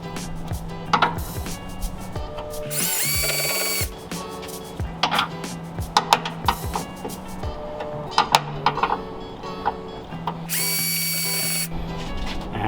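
Top two bolts on a 1968 Mustang are loosened with a half-inch wrench and socket, heard as uneven bursts of ratcheting clicks and metallic tool noise separated by short pauses and clatter, close up.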